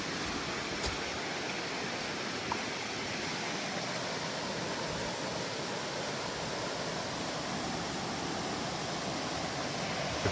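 A stream flows at a water crossing on the Appalachian Trail, giving a continuous, even rushing hiss that stays close and steady the whole time, with no voices.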